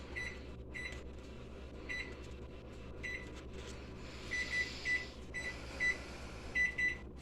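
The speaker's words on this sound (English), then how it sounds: "Set the timer for" A kitchen oven's timer beeps repeatedly as it is set for baking biscuits, short bright electronic tones in irregular clusters, getting louder toward the end, over a constant low appliance hum.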